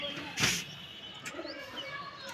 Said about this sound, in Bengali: পায়রার খাওয়া হয়ে গেল, পায়রা ঘরে ঢুকে গেল।